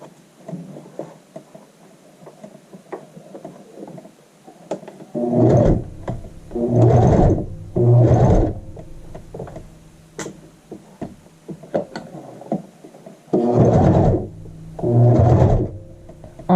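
A sewing machine stitches a shoulder seam on a child's shirt in several loud, whirring bursts of about a second each, separated by quiet pauses filled with faint ticking and handling sounds.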